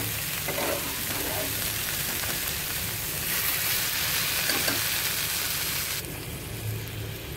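Quinoa and lentils drop into a pan of hot spices for a khichdi, setting off a steady, close, loud sizzle and frying hiss that continues evenly throughout, with no talking.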